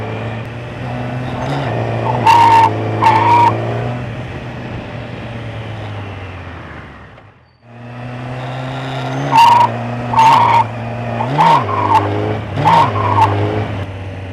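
Motorcycle braking hard with the front brake, engine droning then cutting out, with repeated sharp tire squeals from the skidding front tire in short bursts across two passes.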